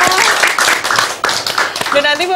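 Studio audience on a Bali TV music show claps in a steady burst of sharp hand claps, mixed under a presenter's voice and some tonal sound throughout.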